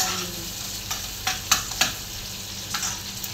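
Galunggong fish fries in a pan, a bright steady sizzle with several sharp pops and spatters standing out, close and fairly loud, with no one talking.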